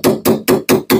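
Five evenly spaced, loud metallic whacks strike an Endurapin door pin piece on a Chevy S10 door hinge, each a sharp close impact with a short ringing decay.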